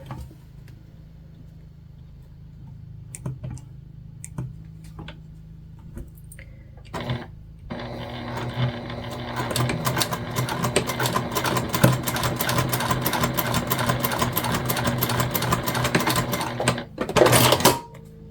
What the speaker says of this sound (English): And then we're just going to top stitch down both sides.